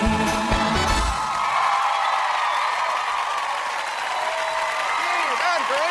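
A studio audience on Dancing with the Stars breaks into sustained, loud applause and cheering after a dance, a steady wash of clapping that carries on without letup while music fades at the start.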